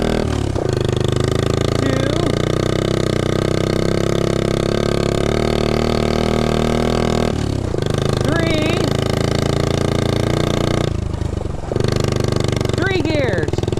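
A 1969 Honda Z50 mini bike's small engine runs loud and close throughout, with a steady, buzzy drone and brief dips as the rider shifts gears. A few short spoken words come in over the engine.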